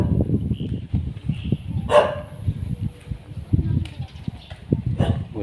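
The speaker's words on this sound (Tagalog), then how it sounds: "May aso, nakatali." A dog in a Bria Homes subdivision in San Jose del Monte, Bulacan, tied up, gives a single bark that stands out briefly over constant talk and background noise.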